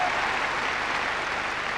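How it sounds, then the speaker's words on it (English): Party conference audience applauding Iain Duncan Smith's speech: dense, even clapping from a large crowd, sustained and moderately loud for the whole moment. "the level of applause that Ian Duncan Smith's party was receiving when he made that speech"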